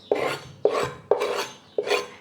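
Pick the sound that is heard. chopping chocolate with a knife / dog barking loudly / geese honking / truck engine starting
chopping chocolate with a knife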